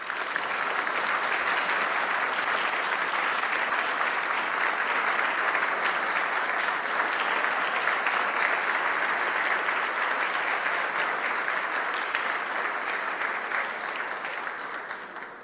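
Large audience at a community event applauding after a presentation, sustained dense clapping that holds evenly for about fifteen seconds before tapering off slightly at the close.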